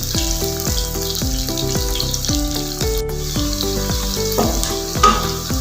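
Meat for kreely gosht frying in a pan while being stirred, a loud continuous sizzle with a regular series of utensil scrapes and knocks, close up.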